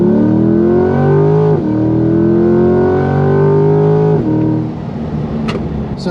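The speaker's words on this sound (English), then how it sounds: "Give it a little acceleration here." A 2020 Chevrolet C8 Corvette, mid-engine with 495 horsepower, accelerates hard in competitive mode, its engine note climbing loud and close through two gear shifts before easing off.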